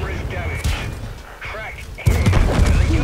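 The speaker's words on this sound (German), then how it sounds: "Und den Valiant gesprengt." A Valiant tank explodes in World of Tanks, a loud booming blast with sharp gunfire-like cracks and a heavy low thud near the end, over continuous game rumble with a voice talking.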